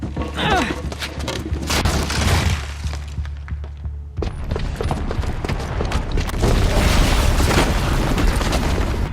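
A booby-trapped bomb detonates in the video game Horizon Zero Dawn: a loud, sustained roar of blast and crumbling debris with deep rumble, briefly dropping before surging again into heavy, continuous destruction noise.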